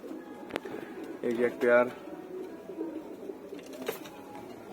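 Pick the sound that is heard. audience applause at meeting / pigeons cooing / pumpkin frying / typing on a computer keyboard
pigeons cooing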